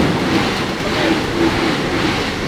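A freight train rolls through Austria, a continuous loud rumble and rattle of the wagons heard from on board, with a brief spoken word over the noise.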